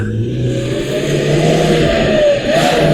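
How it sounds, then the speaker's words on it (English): Off-road rally car engine revving loudly as it speeds toward the finish line, a sustained close roar with a rising pitch near the end and no talk over it. "So the first car will just zoom on through."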